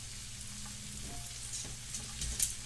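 Butter sizzles in a hot pan while a Philly cheesesteak grilled cheese is being prepared, giving a faint, steady low crackle with a few soft pops near the end.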